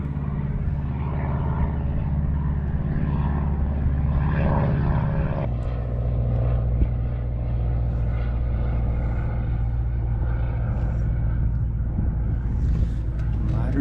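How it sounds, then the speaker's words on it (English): A de Havilland Beaver bush plane drones loudly overhead, its propeller engine roar swelling and holding steady throughout, with a breezy lakeside background and no talking. "Here comes a bush plane."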